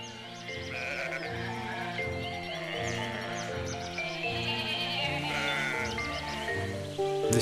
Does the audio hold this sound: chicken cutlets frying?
no